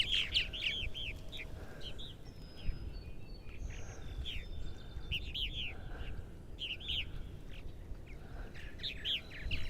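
Purple martins call over a yard on eastern Long Island, New York, giving repeated bright, gurgling chirps and warbles in short bursts, near and fairly clear over a low background hum, with no talk.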